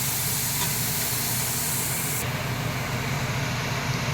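A pressure cooker vents steam in a loud, steady, close hiss that holds unbroken and then softens slightly partway through, with no voices over it.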